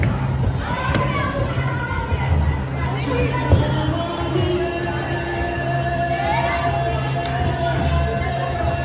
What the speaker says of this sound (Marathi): पहिल्या दिवशीसुद्धा बघा केवढी गर्दी आहे इकडे